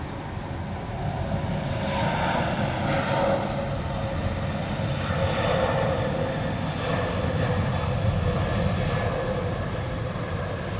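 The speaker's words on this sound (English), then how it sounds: "A320 100 in the background, going to Belgrade." An Airbus A320 departs Zurich Airport for Belgrade, its jet engines making a loud, steady roar with a broad rumbling wash that holds for the whole stretch.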